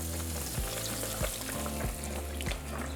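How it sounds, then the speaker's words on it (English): Breaded beef milanesa cutlet fries in hot oil with a loud, steady sizzle, broken by a few soft, regular thumps and bumps from the pan. "our oil should be nice and hot, so throw it in"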